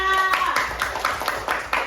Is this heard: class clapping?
yes